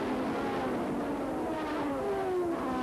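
Formula 1 cars of the 1986 Grand Prix pulling away from the start, several engines screaming and rising in pitch together, loud and close with a dense roar throughout.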